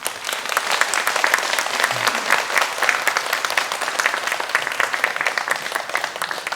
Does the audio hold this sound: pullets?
no